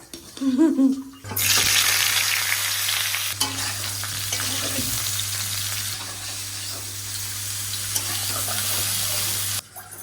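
Loud, continuous sizzling of luchi, puffed flatbread dough, frying in hot oil, a dense bubbling hiss with brief stirring sounds; a short quieter moment opens the clip.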